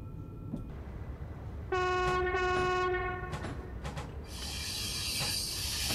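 Electric train in Train Simulator Classic running on the Frankfurt to Koblenz route: a steady rolling rumble with a loud two-tone horn blast partway through, and brighter hissing noise building toward the end.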